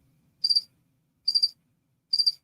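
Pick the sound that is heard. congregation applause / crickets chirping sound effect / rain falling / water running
crickets chirping sound effect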